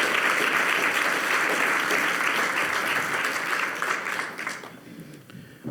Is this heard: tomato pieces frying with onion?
no